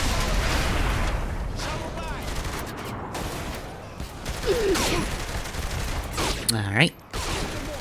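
Dense gunfire and grenade blasts from the video game Saints Row: The Third fill the scene as continuous loud bursts and booms, with someone speaking briefly over the combat noise.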